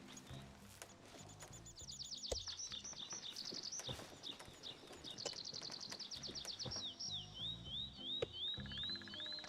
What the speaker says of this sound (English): he kept hearing these birds, and he's like, "Is that on your game or is that outside?"